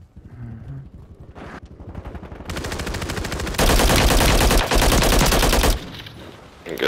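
Automatic gunfire in Call of Duty Warzone, a close and loud stream of rapid shots that builds in intensity into long, dense bursts with a brief gap, then tapers off.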